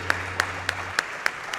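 Slow, sparse claps sound at a steady rhythm, faint and thin, during a charity speedrunning marathon event (SGDQ).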